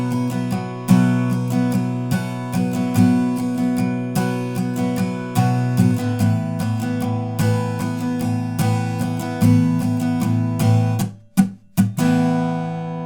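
Strummed electric guitar chords from Foo Fighters' Best Of You, a steady pattern with muted up strums giving choppy accents, played alone and close with no talk.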